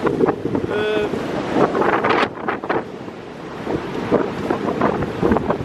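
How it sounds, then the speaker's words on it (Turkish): Strong storm wind buffeting loudly across the microphone in gusts, with a rushing, roaring texture and a brief whistling tone near the start. "rüzgar sesini"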